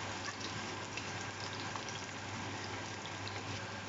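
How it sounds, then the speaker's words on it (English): Onions frying in hot oil for a spinach stew, giving a steady, soft, even sizzle and crackle with no talk. "I'm going to put all our onions in"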